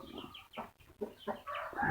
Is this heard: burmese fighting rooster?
yes